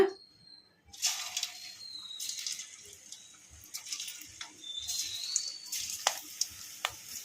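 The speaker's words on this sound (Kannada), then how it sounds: "ಮೀಡಿಯಮ್ ಫ್ಲೇಮಲ್ಲಿ ಫ್ರೈ ಮಾಡ್ಕೋಬೇಕು ಕಾಲಿಫ್ಲವರ್ನ" Cauliflower florets dropped one by one into hot oil for deep-fried gobi pakoda over a medium flame. After a quiet first second, bursts of sizzling hiss and crackle rise and fall, with soft low knocks underneath.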